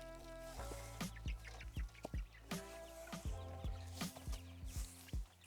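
Chickens on a homestead farm cluck and squawk in a busy, agitated flock, with repeated sharp calls close by over a steady background hum.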